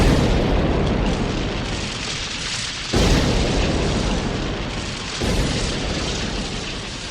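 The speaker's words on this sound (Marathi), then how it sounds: "तोफेची इशारत म्हणजे आम्ही गडावर सुखरूप पोहोचल्याचा सांगावा. तुम्ही तोफेला बत्ती द्या." Cannon fire booms during a Marathi historical stage drama about the Pavankhind battle. A dense, roaring rumble runs throughout, with two sharp fresh blasts punching in partway through.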